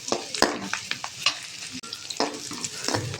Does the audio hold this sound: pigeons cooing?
no